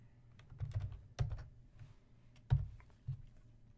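Typing on a computer keyboard in an office, a few short bursts of soft key taps with brief pauses between them, close and quiet with no talking.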